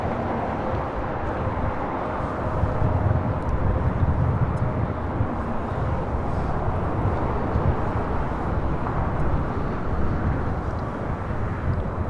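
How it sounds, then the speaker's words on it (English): An Airbus A321neo airliner arriving at LAX from Detroit, a steady broadband jet roar that holds at a constant loudness throughout, with a faint tonal whine running beneath the rumble. "947 coming in from Detroit on an A321neo."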